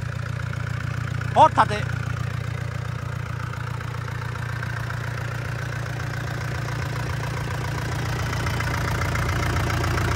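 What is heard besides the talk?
FAW 485 non-turbo engine idling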